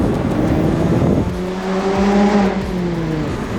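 A car exhaust fitted with Hooker headers and an HKS Sport axle-back gives a loud, close throaty drone that steadies into a rising rev with clear harmonic tones, alone with no talk.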